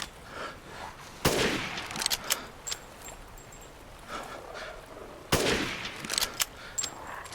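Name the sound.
gunshots in Resident Evil Village video game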